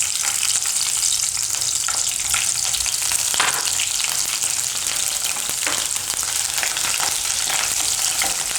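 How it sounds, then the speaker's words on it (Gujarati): Green chillies spit and sizzle in hot oil in a home kitchen pan, a loud, steady crackling frying sound that runs throughout with occasional sharper pops and no talking. "તો તેલ આપણું ગરમ થઈ ગયું છે, એમાં આપણે નાખીશું મરચાં."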